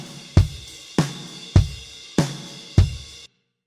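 A live drum kit mixed with fast-attack compression and saturation plays five evenly spaced, punchy hits with bright cymbal wash, each strike decaying quickly before the next, ending abruptly in silence.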